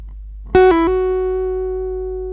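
A single plucked guitar note on the second string quickly changes pitch twice near the start through a pull-off and hammer-on, then one clear tone rings out and slowly fades, alone.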